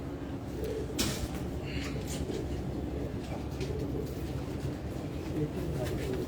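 Multan jet highflyer pigeons cooing outdoors, soft repeated low coos over steady background noise and loft activity, with people talking throughout.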